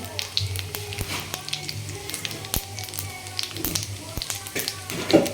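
Cumin seeds fry in leftover hot oil for a chivda snack, giving a light, crackling sizzle with scattered sharp pops and taps, close by and fairly busy.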